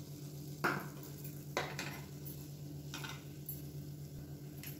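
Sweet batter, made with egg, is ladled into hot oil, giving a few soft splashing pours and sizzles spaced apart over a faint kitchen background.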